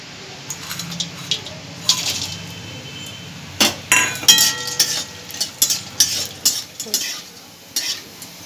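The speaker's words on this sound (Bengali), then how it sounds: "বড়িগুলো ভেজে নেব।" Broken lentil dumplings (bori) fry in mustard oil, giving a soft sizzle beneath frequent close metallic clinks and scrapes of a utensil against the pan. The clinks turn louder and more rhythmic in the second half.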